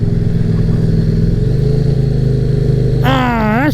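A KTM RC8 R motorcycle drones steadily while riding, its engine note shifting slightly in pitch, then a loud rising rev sweeps up and dips near the end, with heavy wind rush throughout.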